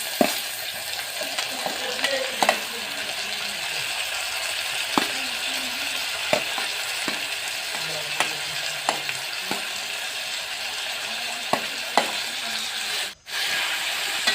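Tomato fries with reddish-browned onions for a simple cauliflower curry, giving a steady close hiss of sizzling oil broken by sharp spoon scrapes and taps against the pan at irregular intervals.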